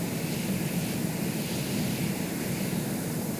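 A stalling aircraft in the sandbox game Stormworks, flying barely under control and upside down; a steady dense rushing drone of engine and wind, loud and unbroken.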